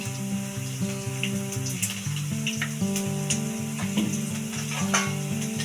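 Cauliflower (gobi) frying in oil for gobi fried rice gives a steady sizzle under a sustained looping melodic background tune, close, no talking.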